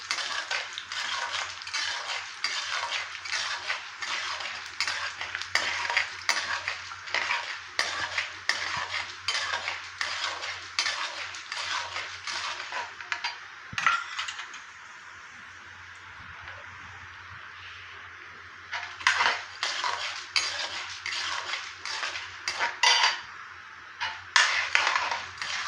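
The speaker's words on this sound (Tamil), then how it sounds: "இப்போ கடலைப்பருப்பு, உளுத்தம்பருப்பு போட்டு செவக்க வறுக்கணும்" Chana dal and urad dal roast in a pan with mustard seeds for poha upma, stirred by a metal spoon in quick, rhythmic scraping clinks, with a short quiet pause midway before the stirring resumes.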